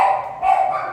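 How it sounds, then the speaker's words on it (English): A dog barks at something outside, giving short, close yips and a whimpering bark in quick succession, fairly loud, with no one talking. "they're barking because they see something outside"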